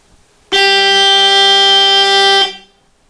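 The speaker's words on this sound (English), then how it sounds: "This is a horn that has a full 111 decibels, quite a bit louder. Let's listen to that." One long, loud, steady 111-decibel boat horn blast with a rich harmonic tone holds for about two seconds, then cuts off with a short fading tail.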